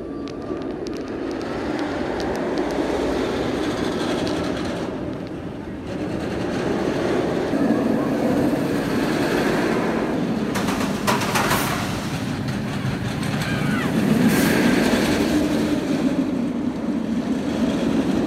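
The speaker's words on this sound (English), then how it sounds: "I'm about to ride COPPA, the B&M sit-down coaster" A B&M sit-down roller coaster at Busch Gardens Tampa in motion: a continuous loud rumble of wheels on track and rushing wind throughout, with clattering surges and rider voices mixed in.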